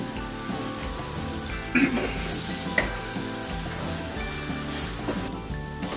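Soybeans and masala sautéing in a pan for a vegan stir fry, a steady close sizzle and crackle running throughout, with a couple of brief louder spatters or scrapes.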